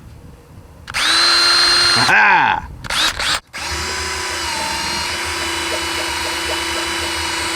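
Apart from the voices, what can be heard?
20-volt cordless power drill spinning engine oil pump drive tool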